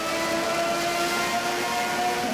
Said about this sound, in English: it's brilliant to listen to that Honda engine